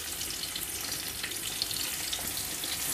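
Onions and green chilies fry in hot oil in a pan for a gongura prawn curry, making a continuous bright, crackling sizzle at steady moderate loudness with no pauses.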